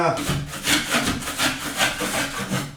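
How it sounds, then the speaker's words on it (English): Old, heavy drywall mud being scraped off a wall, heard as a steady run of about five rough, rasping strokes, close and fairly loud, with no talking. "So I'm going to try to scrape off all the heavy stuff."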